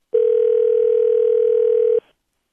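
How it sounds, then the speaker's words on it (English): A steady telephone ringing tone sounds on a call, one long unbroken tone lasting nearly two seconds, clear and close, then stopping abruptly. "So let's see if the phone's ringing."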